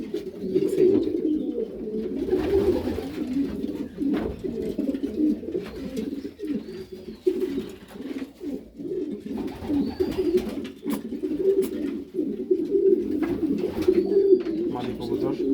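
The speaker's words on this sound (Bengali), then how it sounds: "মাদি কবুতর" Pigeons in a loft give a steady chorus of low, throaty coos, many birds overlapping close by in rolling repeated phrases, with occasional wing flutters and people talking intermittently.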